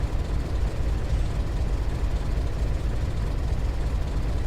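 A simulated aircraft engine in Flight Simulator X drones steadily after start-up, a loud, continuous low rumble with no talk over it.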